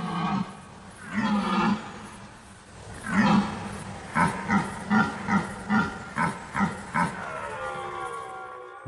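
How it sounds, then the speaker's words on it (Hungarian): Red deer stags bellow in the autumn rut in a forest, starting with a few long roars and then switching to a rapid series of about nine short, loud grunting bellows in rhythm. "A szarvasbőgés állandó."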